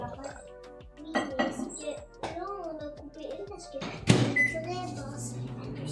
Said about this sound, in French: Cuire au micro-ondes, 4 minutes.